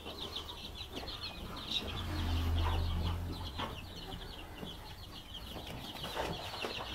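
A flock of Indonesian village chickens clucks continuously, with overlapping murmuring calls and occasional sharper squawks, under a low background rumble.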